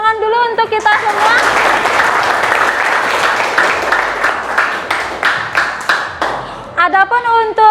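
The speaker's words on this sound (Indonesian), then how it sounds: "tepuk tangan dulu untuk kita semua." A classroom of students claps together in a loud, sustained burst lasting several seconds, starting right after a voice and ending as she begins speaking again.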